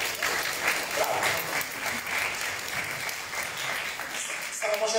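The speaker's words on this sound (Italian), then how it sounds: "facciamo un applauso." Audience applause at an Italian book presentation evening, steady dense clapping filling the whole stretch at moderate level, with some voices audible toward the end.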